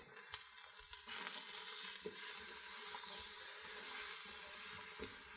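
Seasoned onions sizzling and frying in a Ninja Foodi, a steady hiss with a few soft stirring clunks, close and continuous, growing slightly louder partway through.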